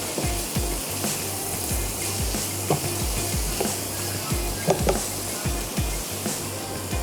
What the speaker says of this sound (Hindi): ये हमारी सब्जियां हैं जो कुक हो रही हैं